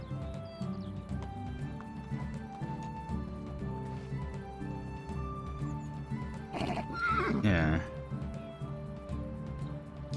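Horses in the farming game Medieval Dynasty neigh and whinny loudly mid-clip over steady clip-clopping hooves and background game music, with a voice speaking briefly.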